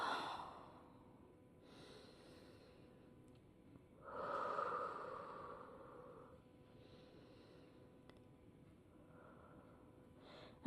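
Soft breathing during a vinyasa yoga session, a few slow audible inhales and exhales with gentle sighing breaths, close and quiet against a faint room hiss.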